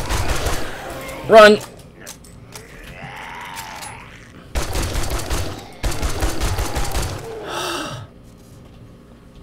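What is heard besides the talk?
gunfire in the video game 7 Days to Die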